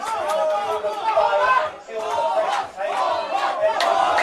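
A football crowd at a championship match roars and chants in loud, surging waves, with brief dips between swells, close and dense.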